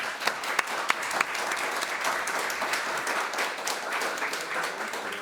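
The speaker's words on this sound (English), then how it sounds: "I think they deserve a round of applause." An audience at a climate change boardroom panel discussion applauds the panelists with dense, sustained clapping that stays at an even level throughout, fairly close and with no talk over it.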